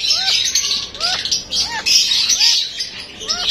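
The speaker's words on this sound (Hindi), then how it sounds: "ये देखें कैसे खेल रही है लारा।" A pet parrot chirps while playing, repeating short rising tweets roughly every half second, close and clear over a light hiss of background noise.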